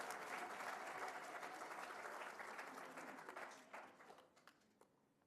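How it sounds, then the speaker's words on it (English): An audience applauds students at a 2024 school exam results release ceremony, with dense sustained clapping that gradually thins into scattered claps and fades out. "Give these children a loud of applause"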